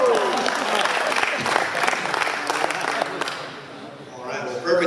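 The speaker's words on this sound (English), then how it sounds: "That's a round of applause." A seated audience gives a round of applause, steady clapping that holds for several seconds and then fades toward the end, with a voice speaking over it.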